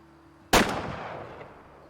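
A single loud .223 rifle shot fired at a fox in the Way of the Hunter hunting game, a sharp crack followed by a long rolling echo that fades over more than a second.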